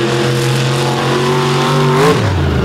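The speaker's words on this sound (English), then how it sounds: "Plenty of horsepower, that big 557 cubic inch Chevy big block in the back of that truck" A truck powered by a 557 cubic inch Chevy big block engine revs hard at a drag racing event, a loud, steady roar whose pitch climbs and then drops sharply near the end.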